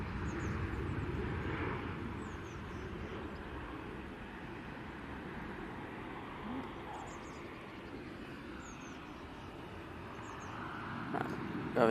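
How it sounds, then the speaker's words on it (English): An EasyJet airliner at Manchester Airport, a steady distant jet engine rumble lasting throughout, with faint birdsong above and talking partly over it. "We have an EasyJet now."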